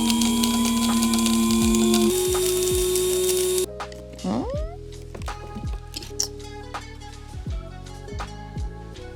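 Blender blitzing material to make miniature autumn leaves, a loud steady motor whir that cuts off partway, followed by quieter clicks and a cat's meow.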